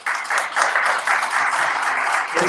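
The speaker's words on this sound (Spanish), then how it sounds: "un fuerte aplauso, por favor, para Miguel" An audience at a live home-renovation event claps for a short burst, moderately loud and fairly even, with a brief dip near the end.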